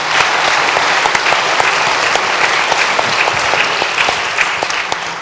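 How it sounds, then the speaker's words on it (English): An audience at a Democratic congressional primary forum applauds the candidates, loud steady clapping from a roomful of people that holds its level and tapers slightly at the end. "let's give a round of applause to all the candidates"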